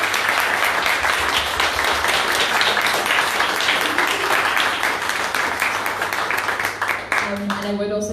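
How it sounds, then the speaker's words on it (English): A room full of panel audience members at a creative arts event gives a warm round of applause, loud and dense clapping that tapers near the end as a voice begins to speak. "give a lovely round of applause to all these beautiful people here"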